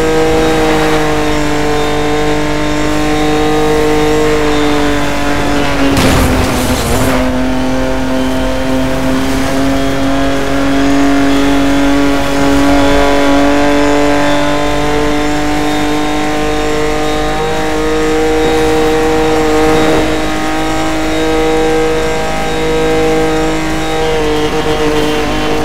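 A car in Need for Speed Most Wanted 2012 held at its top speed of about 280, its engine a loud, steady high-pitched drone throughout, broken by one sharp impact early on.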